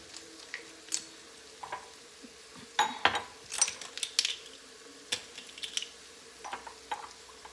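A spoon stirs salt into a cooking dish, giving light scraping clinks against the pot at irregular intervals, close and fairly quiet, with no talking.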